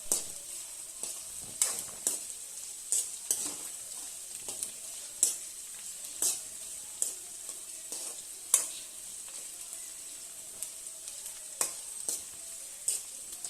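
Green chillies frying in a pan for ginger curry, a steady quiet sizzle with regular sharp scrapes and taps of a spoon stirring, no voices.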